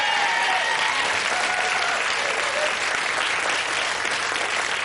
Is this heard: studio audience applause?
yes